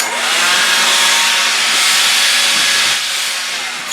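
A big Makita cordless blower with a wide nozzle roars in a loud, steady rushing hiss for a few seconds, close by and alone, fading slightly at the end.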